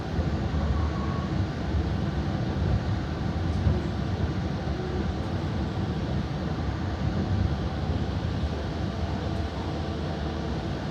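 Steady, loud rumble and broadband roar fill the interior of the Krakatau passenger train at Madiun station, continuous and even throughout with no voices.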